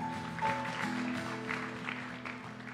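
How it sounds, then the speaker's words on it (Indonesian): A congregation at a church service claps, soft, scattered applause over lingering organ-like tones, distant and fairly faint. "Berikan tepuk tangan bagi Tuhan"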